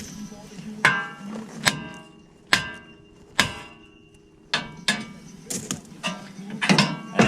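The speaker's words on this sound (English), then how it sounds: "you use a hammer. You hit the knuckle right here." A hammer strikes a steering knuckle on a Dodge 2500 about ten times with sharp ringing metal clangs, spaced evenly at first, then coming quicker and lighter near the end, to free a tie rod.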